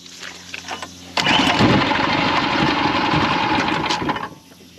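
A Mud Skipper Twister Lite mud motor on a kayak starts abruptly after a quiet moment and runs at a loud, steady buzzing idle for about three seconds before cutting off.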